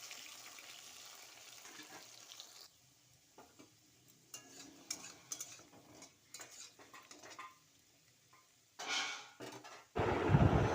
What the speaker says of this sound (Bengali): এবার কচুগুলো দিয়ে ভালো করে একটু ভেজে নেবো